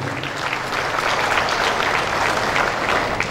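Steady applause from the audience fills a hall at the official inauguration of an agricultural show, a dense, continuous clapping from many hands with no pauses, close and loud.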